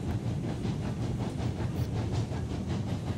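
A Glenbrook steam locomotive in the video game Railroads Online hauls seventeen loaded log cars, a continuous low rumbling chug with faint rhythmic pulsing and hiss, steady and close with no talk.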